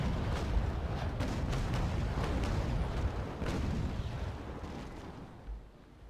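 Naval cannon fire in the sailing-warship game Naval Action, heard as a dense rumbling wash of distant booming broadsides that rolls on continuously before easing off near the end, with no talking.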